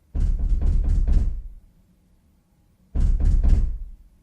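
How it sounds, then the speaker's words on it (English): Someone knocks on a front door in two bursts: a quick run of five heavy raps, a pause of about a second and a half, then three or four more. The knocks are close, loud and hollow. "Someone knocked again and again, and two people called, Hello there."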